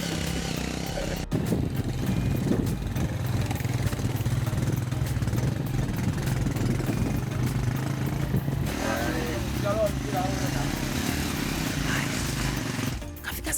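A motorcycle engine runs steadily throughout with a low droning rumble, loud and close, with faint voices mixed in near the end.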